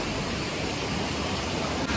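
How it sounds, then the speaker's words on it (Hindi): Waterfall at Jibhi in Himachal Pradesh, a steady, loud, broadband rush of falling water that fills the scene without pause, close by and alone. "तो गाइस ये है वाटरफॉल, आप देख रहे होंगे, मस्त वाटरफॉल हो रहा है ये पूरा वहां से वहां तक"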